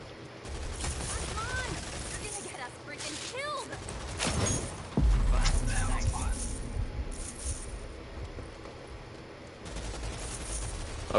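Automatic light machine gun fire in a multiplayer shooter video game, rattling bursts and gunshots mixed with game effects while players talk over the team chat.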